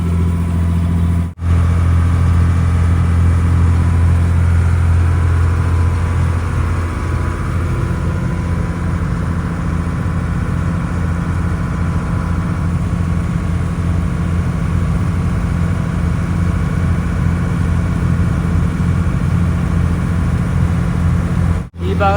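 Motor pumping water out of a paddy field in Kuttanad, Kerala, running as a steady, loud, low mechanical drone with a constant engine hum that persists without pause for the whole stretch.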